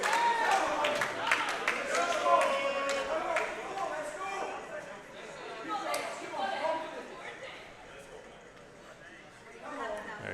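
Crowd at a powerlifting meet cheers and applauds a lifter, a broad wash of clapping and shouting voices that stays loud and dense, then eases slightly before swelling again at the end.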